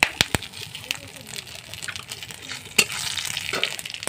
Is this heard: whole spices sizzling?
yes